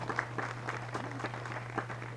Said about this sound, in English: Can we have a round of applause for those folks?